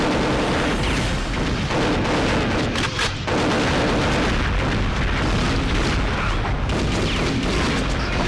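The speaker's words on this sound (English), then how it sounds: "Super Dragon grenade launcher." Super Dragon grenade launcher blasts in the Nintendo 64 game Perfect Dark, in an every-man-for-himself match on the Temple map, form a dense, loud, continuous roar of overlapping explosions with no pause.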